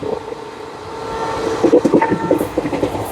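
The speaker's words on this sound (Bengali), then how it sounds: "তো ট্রেন মোটামুটি ভালোই ছুটছে এখনই, স্টার্টিং থেকেই।" Kolkata–Haldibari Superfast Express (12363) running on rails from the start of its journey, a steady close rumble with rhythmic clattering of the wheels building slightly louder partway through.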